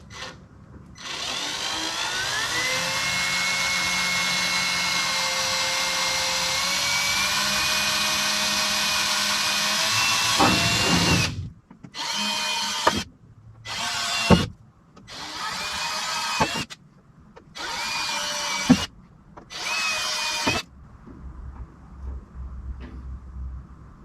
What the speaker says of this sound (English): With the small drill bit, because it fits in that little indentation really easy.